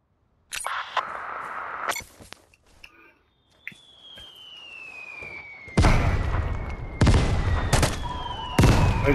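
Bombardment in the video game Vigor: several loud explosive booms land in separate bursts, with a high whistling tone sliding downward between them and the strikes growing heavier toward the end.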